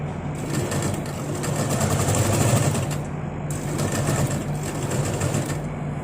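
A sewing machine stitches a button loop onto a princess-cut boat neck blouse in a fast, steady mechanical whir with brief pauses, close and continuous.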